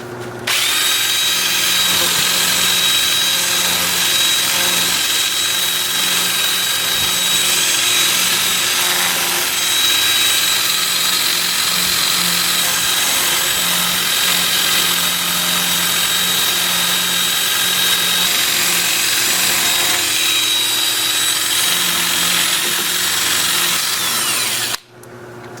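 A wood lathe runs in reverse at about 360 rpm during woodturning, a loud, steady mechanical whir with a rough, scraping texture that holds for about 25 seconds before cutting off abruptly at the end.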